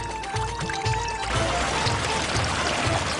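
Water gushes up from a freshly dug well, a loud continuous rushing pour that swells in after a short stretch of background music and then keeps surging steadily.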